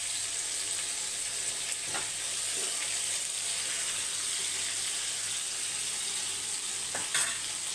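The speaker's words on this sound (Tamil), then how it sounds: "நான் சிம்மில் வச்சு தான் மீன் பொறிக்கிறேன்" Fish frying in a pan over a low flame for a village-style fish fry, a steady close hiss of oil with a couple of brief crackles, no voices.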